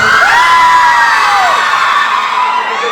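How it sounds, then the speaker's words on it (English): An audience at the EQUINOX-24 event cheers, whoops and hoots loudly, a dense, sustained crowd roar with rising shrill calls that gradually tapers toward the end. "they cheer so much, hoot so much, it just makes my day"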